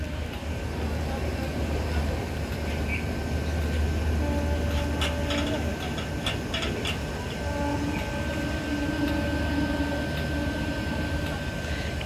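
A train passing near a hostel, a continuous low rumble with rattling wagons and clicking wheels that persists across the whole stretch, fairly loud and steady.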